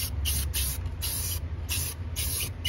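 A spray can lays rust-proofing coating under the chassis of a 1989 Mustang GT in a series of six short hissing bursts with brief gaps, fairly close.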